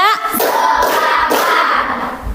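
A classroom claps in a rhythm, with a few sharp hand claps under a teacher's voice leading the group.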